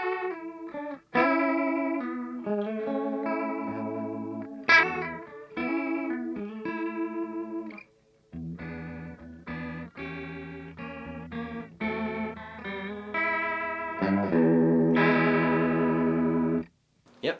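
Electric guitar played through a Sonicake multi-effects pedal with its chorus engaged, shimmering, wavering chords and single notes ringing out in a steady phrase, loud and close, alone without talk.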